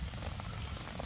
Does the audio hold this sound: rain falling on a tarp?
yes